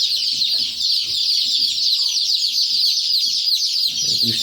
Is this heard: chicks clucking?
yes